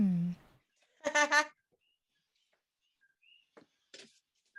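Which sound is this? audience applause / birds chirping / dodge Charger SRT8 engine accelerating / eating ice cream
birds chirping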